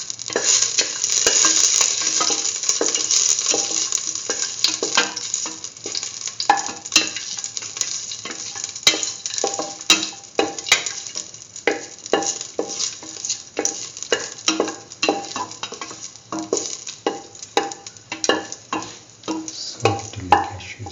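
Cashews fry in a pan for carrot vermicelli soup, a steady loud sizzle running throughout with frequent clicks and scrapes of stirring against the pan, and no one speaking.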